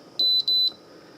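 Two short, high electronic beeps in quick succession from a slow cooker control panel as its buttons are pressed, close and clear against a quiet room.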